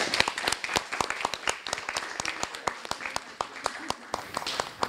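A room full of people clapping steadily, sharp overlapping claps for several seconds with some voices murmuring underneath.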